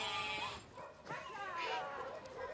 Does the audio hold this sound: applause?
no